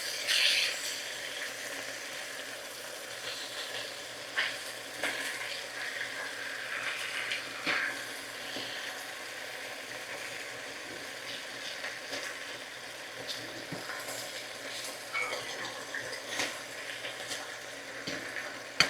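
Patty for bacon cheeseburger soup sizzles and fries softly in a pan after being flipped, a steady low hiss with faint crackles and pops throughout, quiet and continuous with no talk.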